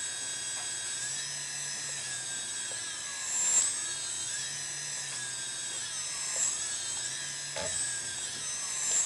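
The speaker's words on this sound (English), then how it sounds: "so you hear that the motors are cracking quite a bit. It's due to timing." Electric motors crackle from a timing fault under a steady high whine. Pitch sweeps rise and fall, with brief louder pops spaced irregularly through the constant tone.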